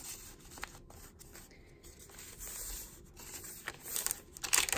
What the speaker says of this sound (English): This is tracing paper that's been tea dyed, so it has a nice loud crinkle to it.